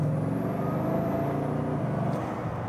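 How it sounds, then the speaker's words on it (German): A Bugatti Chiron's engine revs with turbochargers, a loud, steady, close-up roar that holds through the whole short stretch with no talk over it. "Alter, allein dieses, das sind die Turbolader, ne? Dieses Ansaugen der Luft und dann raushauen."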